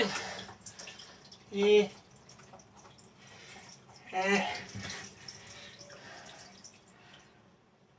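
A toilet leaks into a bathroom, with trickling and dripping water in two short splashy bursts amid quieter drips, close and fairly soft, and someone speaks briefly.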